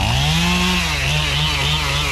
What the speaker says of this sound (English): Today we are showing you us cutting a log so we can practice two-man sawing.